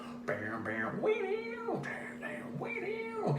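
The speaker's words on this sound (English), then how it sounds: "If you hear a dog whining in the background, it's my dog." A pet dog whines nearby in a series of drawn-out, wavering, rising and falling cries, repeating about three times over a few seconds.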